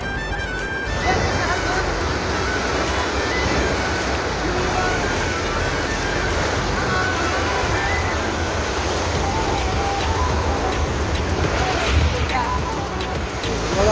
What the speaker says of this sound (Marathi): खूप जोरात पाणी आहे